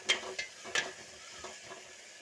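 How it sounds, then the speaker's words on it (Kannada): Tomatoes fry for rasam in a pan, giving a soft sizzle under a few quiet scrapes and taps of stirring, with the first strokes the loudest. "ಇದಕ್ಕೆ ಟೊಮೆಟೊ ಹಾಕಿದ್ದೀನಿ, ಕಲಿಸ್ಬೇಕು. ಫ್ರೈ ಆಗಬೇಕು."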